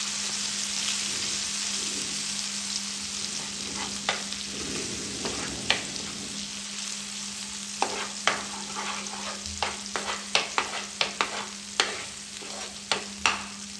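Ground masala paste frying in a pan for paneer tikka masala, a continuous gentle sizzle broken by a run of sharp spoon scrapes and taps in the second half, close and with no voices.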